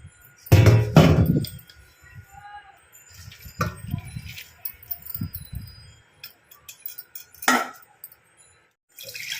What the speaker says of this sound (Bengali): এবার ম্যাগিটা আমি ছেঁকে নেব।